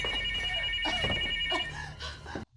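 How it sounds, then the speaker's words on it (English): A telephone rings in a tense movie scene, a soft electronic ringtone with repeating tonal bursts over low background sound, ending in a brief silence and a sharp cut. "the phone rang again."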